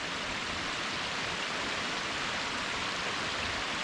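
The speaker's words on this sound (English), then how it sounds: "Here's the waterfalls." Waterfalls at Natural Bridge State Park, Virginia, pouring in a steady, dense hiss of rushing water, close and constant with no voices.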